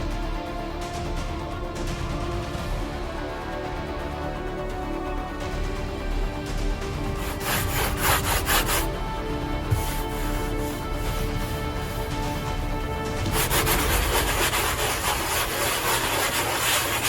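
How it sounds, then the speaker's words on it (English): Sanding of dried fiberglass body filler over a patched bullet hole in a car panel: steady abrasive rubbing strokes run throughout, growing louder and harsher in bursts near the end, with no talking. "Then I'll come back and sand it."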